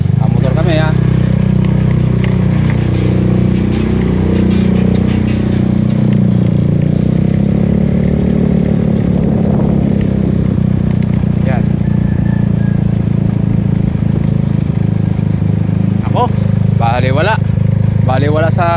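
Motorcycle engine running steadily throughout while riding, a constant loud drone with some clatter and scraping, voices talking over it at times.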